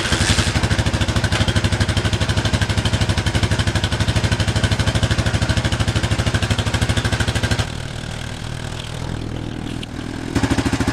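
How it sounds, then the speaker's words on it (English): A 1991 Suzuki DR650 enduro motorcycle's single-cylinder engine running steadily, a loud, fast, even thumping idle that dips briefly in tone before resuming, heard close up with no talking. "we're gonna kick it over and get this thing to fire up to show you what it runs like now"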